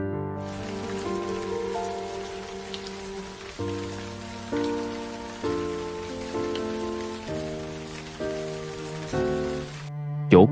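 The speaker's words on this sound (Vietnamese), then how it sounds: "Chỗ của em cũng đang đổ mưa." Heavy rain pours steadily for about ten seconds, an even hiss running beneath soft, slow melodic music with held chords.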